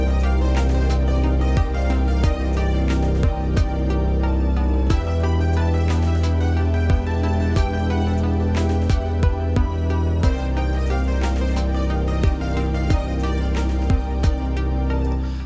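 Ambient lo-fi beat built in the Reason DAW with a filtered pluck lead, where soft synth chords and plucks sit over a steady kick-and-snare groove that stays full and continuous throughout.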